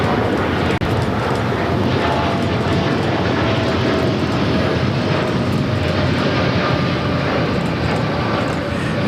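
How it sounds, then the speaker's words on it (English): An American Airlines Boeing 787-8 Dreamliner takes off from LAX for Dallas Fort Worth. Its engines give a loud, steady, broadband jet roar that holds strong and unbroken throughout, with one short tick near the start. "American Airlines 2398 taking off to Dallas Fort Worth on a 787-8 Dreamliner."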